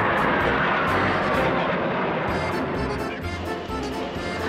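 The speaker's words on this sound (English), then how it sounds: "this plane looks like a fighter jet, but it's mostly used in air shows" A yellow and black jet plane performs at an air show, its engine giving a loud, broad, steady roar that eases slightly toward the end, with no talk over it.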